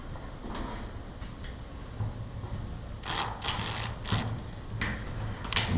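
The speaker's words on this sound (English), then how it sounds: "Just a matter of getting that screw started in that hole." A screw is driven by hand into a hole in a garage door lock, giving quiet, intermittent metallic ratcheting clicks and scraping bursts close by, louder toward the end.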